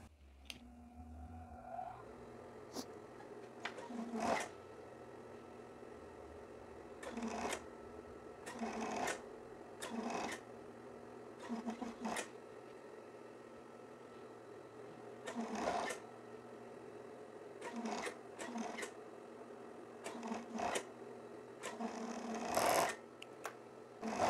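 A sewing machine stitches a sleeve into the armhole of a women's plaid shirt, running in repeated bursts of rapid stitching separated by short pauses, close and fairly loud.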